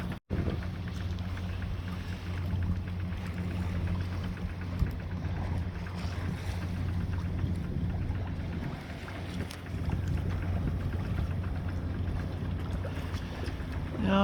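A sailboat under sail on the way to Salem, with sails just raised, moving at about 4.5 knots; steady wind rush and water noise along the hull fill the whole stretch, with no voices.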